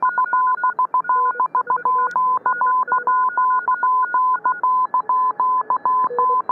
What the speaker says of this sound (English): As the 40-meter antenna dials itself into place, the step IR technology fills your ears with the crushing noise of my S7 noise floor.